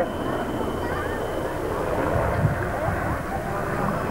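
A Westland Wessex HC2 helicopter, a type long flown by the Royal Air Force and Navy, passes at the 1992 Humberside air show. Its steady broadband rotor and engine roar runs throughout under an announcer's commentary.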